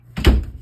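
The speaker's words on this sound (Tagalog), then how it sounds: "Sasara yung pinto." A single door pushed shut in a home lands as one short, solid thunk, close and fairly loud, with no voices around it.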